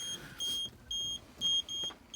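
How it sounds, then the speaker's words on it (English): A Dometic fridge in a brand new van beeps a no-gas warning: four steady, high electronic tones in an even rhythm, close and clear over a low background hum. "it's beeping to tell me that there's no gas in it."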